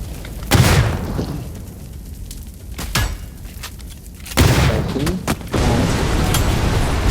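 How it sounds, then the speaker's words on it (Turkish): A vehicle explodes in the New State Mobile battle royale game, heavy booms and blasts bursting out amid gunfire, with loud impacts recurring over several seconds and players talking over the action. "Bizim arabamız da patladı"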